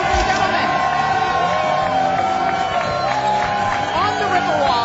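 A rambunctious outdoor crowd on the Riverwalk cheers, whoops and yells continuously, loud and dense throughout, with voices blending over the noise.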